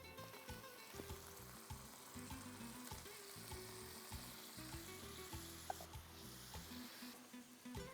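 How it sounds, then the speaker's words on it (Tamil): Paneer cubes fry with onions in a pan, a quiet, steady sizzle broken by repeated soft scraping stir strokes, close by with no talk. "இந்த வெங்காயத்தில் பன்னீரை போட்டுறேன்."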